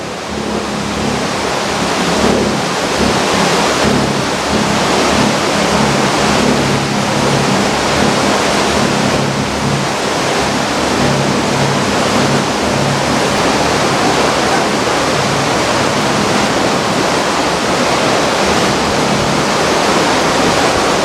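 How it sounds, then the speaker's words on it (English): Heavy rain pours down steadily on a cruise ship sailing a channel in New Zealand, a dense, continuous rushing wash that stays loud and even throughout, with a low engine hum underneath and no voices. "Got a massive amount of rain here."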